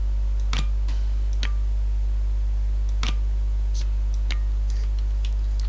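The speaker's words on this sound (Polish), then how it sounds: "doszły dźwięki hamulca postojowego, właściwie elektrozaworu jego" Sharp, isolated clicks from a parking brake solenoid valve in a MaSzyna train simulator cab, about six scattered ticks over a steady low electrical hum, with no talk.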